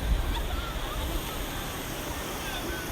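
A waterfall at PHE PHE Falls in Meghalaya gives a steady, close, broadband rushing roar of falling water that holds an even level from start to end, with no clear talk over it.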